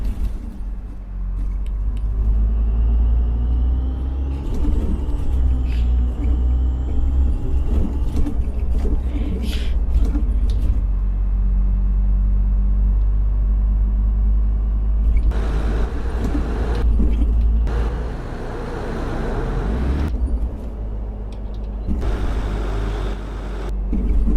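A bus engine in the OMSI 2 driving simulator rumbles low and steady throughout, with revs rising and falling and bursts of rattling road noise.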